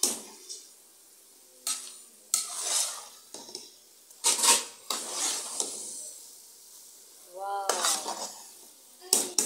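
Potato dish with coriander (aloo suanjhna) stirred in a metal pan, a spoon scraping and clanking in irregular bursts, close and fairly loud, with soft sizzling between strokes.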